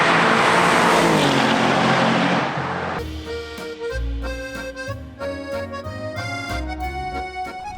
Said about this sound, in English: But we do still have Danny and Steve in the RS6, which is, I believe, it's like stage 1 MRC tuned, about 700 horsepower